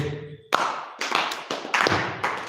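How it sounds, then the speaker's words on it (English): Hands clapping in a devotional class, a series of sharp, close claps at a fairly regular pace, each with a short room echo and no talk over them. "श्रीवास ठाकुर ने 3 बार ताली बजाई"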